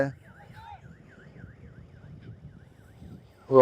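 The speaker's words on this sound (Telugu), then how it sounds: "రివర్స్ హార్న్ ఉన్నప్పుడు వెనక వాళ్ళు ఉన్నారు కదా, వాళ్ళకి అర్థమవుతుంది" A tractor's reverse horn beeps in a rapid, steady series of short electronic tones that gradually fade, over a low engine rumble.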